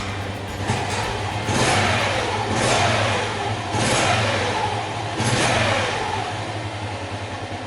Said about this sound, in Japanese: エンジンかかりますね。